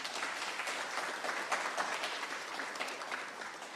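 An audience at a regional health authority's annual research day gives a warm round of applause, with dense, crisp clapping at moderate volume throughout.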